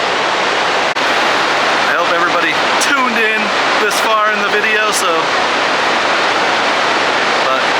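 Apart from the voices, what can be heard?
dam water pouring into Lake Taneycomo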